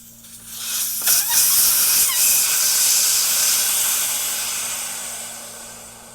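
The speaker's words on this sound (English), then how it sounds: "let the air out, and drop her back down." Air hisses loudly out through a Schrader valve on a truck's helper air bag, rising quickly, then holding as a steady close spray before gradually tapering off, with no voices.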